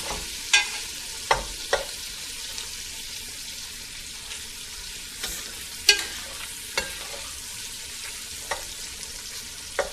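Bacon sizzles steadily in a pan as it fries toward crisp, a continuous close hiss broken by occasional sharper pops and spatters, with no voices.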